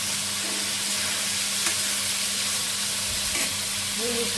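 Potatoes fry in a pan with onion and green chili, a steady close sizzle and hiss throughout, with a brief stirring scrape near the end.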